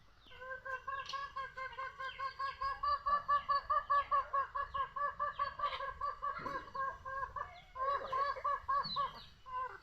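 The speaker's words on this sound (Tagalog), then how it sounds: "Gustong gusto niya magpatuka ng manok eh." Chickens cluck steadily in a rapid, pulsing chorus, fairly close, with brief pauses and a few sharper calls mixed in.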